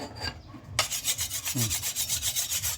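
A bolo knife is being sharpened with a steady run of rhythmic rasping strokes, evenly spaced and close by, with no talking.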